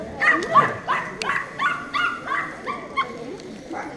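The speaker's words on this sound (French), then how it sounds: "je peux vous montrer 2 chiens qui se râlent dessus" Two dogs square off against each other, trading sharp, snarling yips and barks in a quick, uneven series of about eight bursts, loud and close with a faint background.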